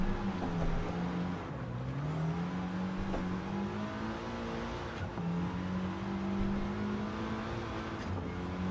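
Car engine in a racing video game, droning steadily and close throughout with rising and falling revs as the car drifts through fast corners, with no talk over it.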